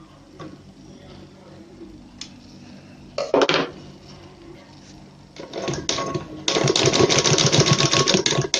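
A sewing machine stitches blouse fabric: quiet ticking at first, then a short burst, then a steady fast stitching run that gets louder toward the end, close by.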